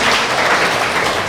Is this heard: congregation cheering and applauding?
yes